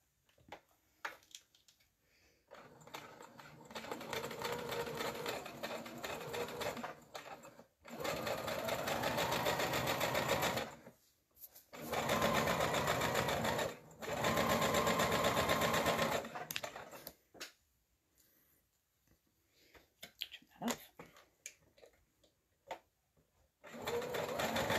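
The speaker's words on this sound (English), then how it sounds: "Now I'm just going to flip it over and I'm going to stitch the other side." A sewing machine stitches fabric in long bursts of steady whirring, pausing and restarting several times close by, with quiet gaps and light handling noise between runs.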